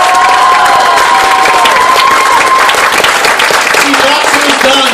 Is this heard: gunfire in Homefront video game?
no